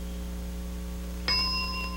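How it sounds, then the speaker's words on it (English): A single game show bell dings once over a steady low studio hum, a clear bright tone that rings on and slowly fades, with no one talking. "start your description when you hear the bell"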